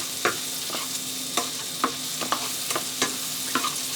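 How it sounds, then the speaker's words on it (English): Chopped onion stir-fried in a pan, with a continuous bright sizzle and regular sharp scrapes and taps of the utensil against the pan every half second or so, close up, with no voices. "Put chopped onion inside and stir fry"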